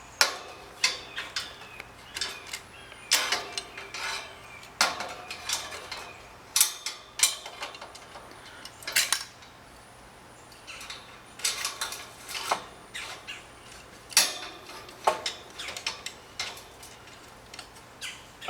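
A jack works to separate a Rohn 25 steel tower section on a gin pole setup, giving scattered, irregular metallic clicks and clinks at moderate distance with quiet gaps between them.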